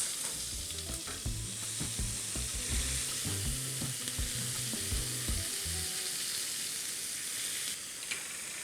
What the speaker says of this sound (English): It's been frying the onions and the cumin seeds, and they're properly fried now